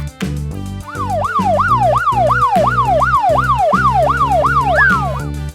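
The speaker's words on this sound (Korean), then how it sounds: "police car," A police car siren wails in a fast, regular rising-and-falling pattern, loud and continuous over a light children's music backing for several seconds.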